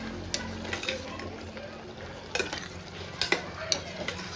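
Onion and potato curry with turmeric stirred in a pan, a low frying sizzle under scattered scraping clicks of a spoon against the metal, with a few sharper knocks near the end.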